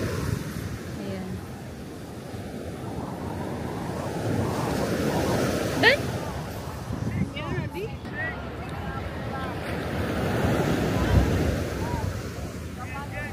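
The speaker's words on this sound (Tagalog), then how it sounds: "Malakas yung alon" Strong surfing waves on a beach in La Union, Philippines, roll and crash continuously with wind buffeting the microphone, while people speak briefly over the surf.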